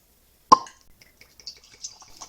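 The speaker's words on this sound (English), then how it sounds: "Let's hit the cork pop." A cork pulled from a bottle of wheated whiskey, one sharp close pop followed by faint small clinks and drips.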